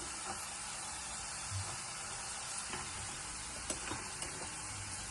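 Lentil dumplings (vadiyalu) frying in hot oil in a home kitchen, a soft continuous sizzle with scattered faint pops and crackles, steady and quiet throughout with no talk.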